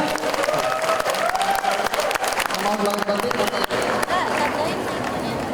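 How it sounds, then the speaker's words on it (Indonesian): Audience at a promotional seminar event applauding, a loud continuous clatter of clapping mixed with crowd chatter and a voice talking over it. "Tepuk tangan buat Mitra BP. Tepuk tangan untuk MC kita boleh, yang keren banget."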